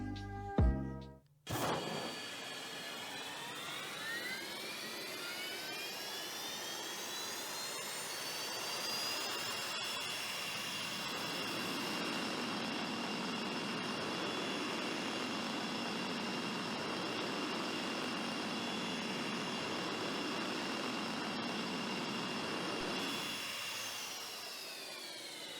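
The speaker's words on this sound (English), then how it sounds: "Here's a full demo of the engine audio." A high-pitched engine whine rises in pitch, then holds a steady roaring drone for over twenty seconds before easing off at the end, from the Aftershock car in the video game Rocket League.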